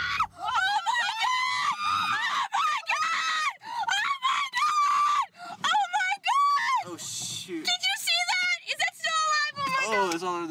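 A woman on a music video set screams repeatedly in loud, high, drawn-out bursts over about ten seconds after finding a spider in her dress, mixed with excited shouting from others nearby.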